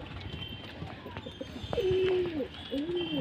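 Fancy pigeons at a breeding farm coo close by in two drawn-out, rolling calls in the second half, rising over a steady murmur of background noise.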